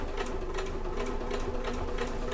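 Sewing machine running steadily while top stitching a fabric bag, a continuous close mechanical whir with quick rhythmic needle ticks throughout.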